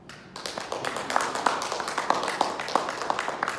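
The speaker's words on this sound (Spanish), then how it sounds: "aplauso al Señor." A church congregation at an evening Bible study claps, the individual hand claps sharp and fairly regular, building from a scattered start into a sustained round of applause.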